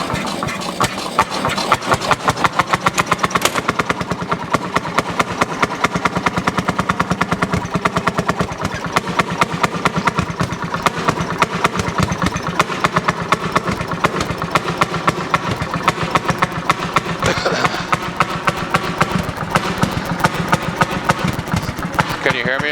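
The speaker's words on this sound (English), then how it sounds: "So once we get the engine started, it's never going to idle really smooth" A Fairmont S-2 railroad motor car's engine runs loud and close for the whole stretch, its rapid, uneven firing beat chugging roughly at idle without settling into a smooth rhythm.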